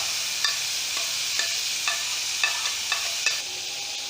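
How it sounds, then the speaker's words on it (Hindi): Spiced masala paste frying in oil for a spicy green chilli curry, with a steady hiss and regular stirring taps roughly every half second, close and fairly loud. "अब इसी ऑयल में हम ये मसाला जो हमारा था इसको हम इसी तरीके से भून लेंगे।"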